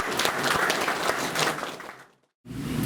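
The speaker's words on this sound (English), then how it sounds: "Please give a big round of applause to them." An audience at a snooker tournament event in Shillong applauds, a dense, loud wash of clapping that fades out, stops briefly, then bursts back in.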